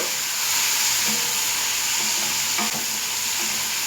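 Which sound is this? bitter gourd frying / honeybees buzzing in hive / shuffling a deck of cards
bitter gourd frying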